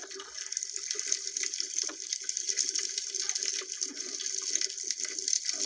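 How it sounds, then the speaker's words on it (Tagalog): Steady rushing, bubbling water noise heard from below the surface, continuous and fairly loud with a dense hiss and faint low churning, no voices. "ganyan yung mga tunog sa ilalim ng tubig."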